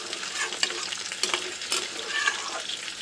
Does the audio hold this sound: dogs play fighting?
no